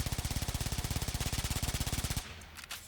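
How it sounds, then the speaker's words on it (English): The Baza gun in the video game Warframe fires a fast, steady burst of about forty evenly spaced shots that stops abruptly, followed by faint mechanical clicks and handling noise. "Literally just emptied out 40 bullets."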